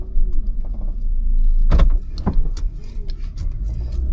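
Car slowly reversing on a forest road among giant sequoias and pines, a steady low engine rumble with a couple of brief clunks and rattles partway through, heard from inside the vehicle.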